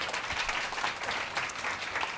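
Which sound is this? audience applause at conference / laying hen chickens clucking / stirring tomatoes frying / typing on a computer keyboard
audience applause at conference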